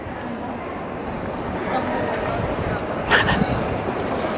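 Pigeons coo softly in repeated gentle warbles while a group of birds gathers after being fed, set against steady outdoor noise with a brief voice speaking.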